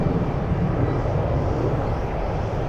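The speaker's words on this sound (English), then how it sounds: "UPS flight crossing" A UPS cargo airplane crossing near a runway produces a steady, loud, broad engine roar that holds at an even level throughout, with no other sounds standing out.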